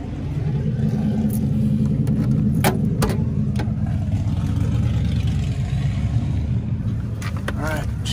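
Old American motorcycles revving at a car show, a steady loud engine rumble throughout with a few throttle blips, people talking over it.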